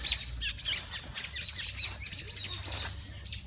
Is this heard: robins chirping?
yes